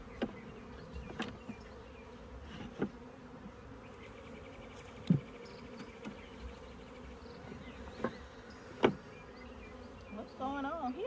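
Dense, steady buzzing of honeybees swarming around an open ten-frame hive, with individual bees droning past close by and a faint voice now and then.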